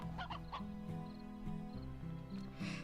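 Chickens cluck in the video game Slime Rancher, a series of short clucks and a squawk over a steady low game music bed, close and moderately loud.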